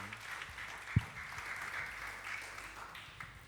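A church congregation applauds the music group, a soft, sustained patter of clapping heard from a distance with one sharp thump near the start.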